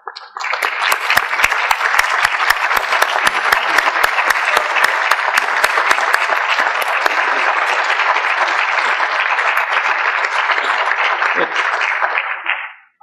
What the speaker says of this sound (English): be glad to give you a round of applause and to say thank you for coming.